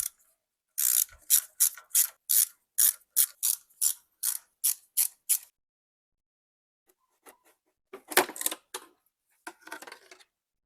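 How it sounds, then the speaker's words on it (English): Ratchet wrench working on heat shields of a BMW N63 V8 engine in a 750i: about a dozen quick, crisp clicking bursts in steady rhythm, then a pause and a few more irregular ratcheting clicks, close up with no talk. "Let's remove these heat shields."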